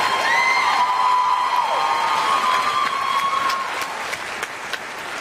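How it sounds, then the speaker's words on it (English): An audience applauds children performing at a Symphony Project concert, with sustained clapping and some cheering that is full at first, then gradually thins out. "another round of applause for these kids"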